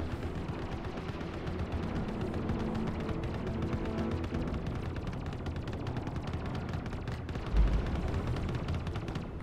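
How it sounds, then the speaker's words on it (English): A missile fired from a Gladiator fighter ship in the Star Citizen game, with steady, dense weapon fire and rumble carrying on throughout and a louder thump near the end. "Let's use one more missile as well."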